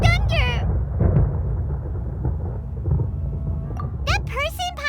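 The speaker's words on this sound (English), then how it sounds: "Paimon hears thunder!" Thunder rumbles in the Genshin Impact video game, a loud rolling boom over rain-like noise, with a character's voice speaking at the start and end.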